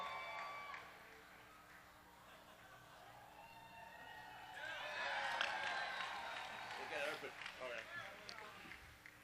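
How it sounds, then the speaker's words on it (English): A convention panel audience breaks into cheers and applause for a short-range basket, rising from chatter to a lively crowd roar partway through, with talk mixed in. "You know it's an internet convention when people cheer a basket from 4 feet away."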